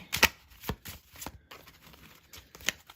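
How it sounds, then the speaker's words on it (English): A deck of playing cards used for a tarot reading is shuffled close up in several quick rough riffles and flicks, with brief gaps between them and no talking. "You making me shuffle tonight."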